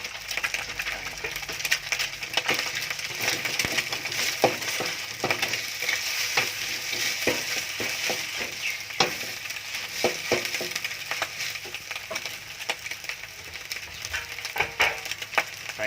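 Chiang Da greens with chili and egg stir-frying in a hot pan, a steady loud sizzle broken by repeated scraping and clinking strokes of a spatula throughout, with no voices.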